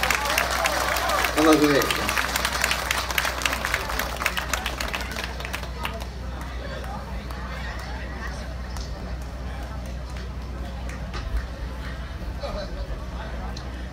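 Audience applause for a singer in Washington, a thick burst of clapping from a crowd for several seconds that fades out while someone speaks over it.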